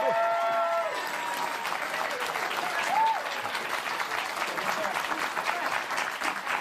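Studio audience applause on a morning news talk show fills the room steadily, a loud continuous wash of clapping with crowd noise that holds throughout.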